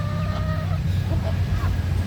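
A chicken clucks several times in a rural outdoor setting, fairly close, over steady low background rumble, with no talk during the calls.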